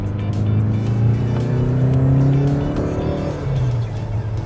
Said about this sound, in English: For being how heavy this car is, it should have great pickup.